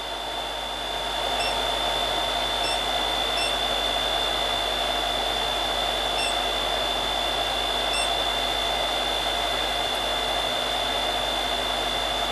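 An M10 Sniper Pro coffee roaster cooling down after shutdown gives off a steady, even fan-like whoosh with a faint high whine, unbroken and alone throughout.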